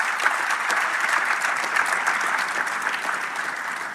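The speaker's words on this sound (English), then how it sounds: "Dr. Johnson Esiama, who deserves a special round of applause." Audience at the 3i Africa Summit breaking into steady, dense applause, a continuous wash of clapping from a large crowd at moderate volume with no other sounds.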